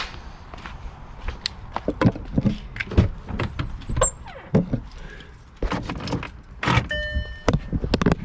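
Metal keys of a 2011 Audi Q7 jangle and clink in several bursts close by, mixed with handling knocks and a few faint high beeps.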